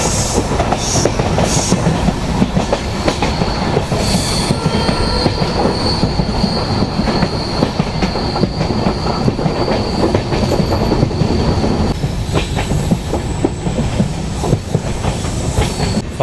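The Agartala Express, train 15664, pulls into Agartala station with a loud, continuous rumble of rolling stock. A steady high wheel squeal runs through it and clickety-clack rhythms sit underneath, with no voices.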